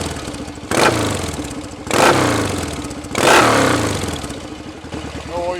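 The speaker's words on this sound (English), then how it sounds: "A bit of noise from the oil pump and camshaft area" A Royal Enfield Interceptor 750 Series 2 parallel twin revs three times, each surge rising and then fading back to idle, with mechanical clatter from the oil pump and camshaft area showing through. The engine sounds close and loud.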